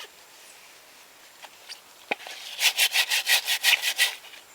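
A tool scrapes the inside of a bleached calabash bowl in Guadeloupe, first with a few faint scratches, then with about eight brisk, rhythmic rasping strokes close up.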